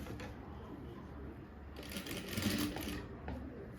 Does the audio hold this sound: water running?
no